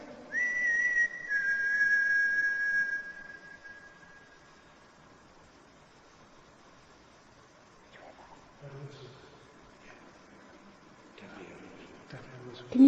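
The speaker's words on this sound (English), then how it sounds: "Can you whistle like this?" A person whistles one sustained, steady tone of about three seconds, clear and close, followed by quiet room noise and faint shuffling.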